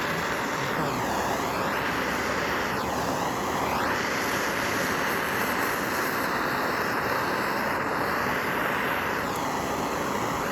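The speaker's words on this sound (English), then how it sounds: "I am holding a torch to it" A torch flame held to a candle pillar gives a loud, steady roaring hiss with no talk, and faint sweeping tones rise and fall over it.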